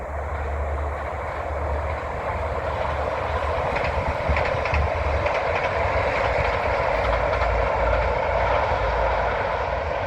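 A train rumbles past steadily on a railway beside a canal, a loud continuous roar with faint rhythmic clatter that holds for the full length without voices.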